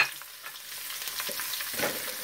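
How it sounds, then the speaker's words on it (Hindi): Chopped onion sizzles in a pan with chili and garlic for a matar paneer, a soft, steady frying hiss with light stirring scrapes, quiet and close, with no talking. "अब यहाँ पे हम डाल रहे हैं प्याज"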